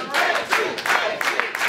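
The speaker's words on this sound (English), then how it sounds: "This crowd's coming alive for KC Roxx." A wrestling crowd cheers and claps for KC Roxx during a match, a lively wash of voices rising in bursts across the arena with a commentator talking over it.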